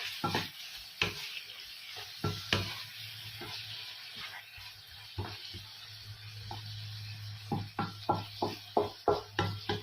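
Sardines and tomato browning in a frying pan for a sardine and pechay dish, with a steady sizzle under repeated sharp stirring scrapes that quicken toward the end, close and fairly quiet.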